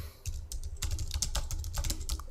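Quick, steady keystrokes on a computer keyboard as a bill description is entered in Peachtree 2009 accounting software, a dense run of close clicks and taps with no talking.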